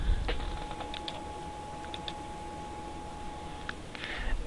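Computer keyboard arrow keys pressed while navigating accounting software, giving sparse, quiet clicks and taps scattered over low room noise, with a short cluster near the end.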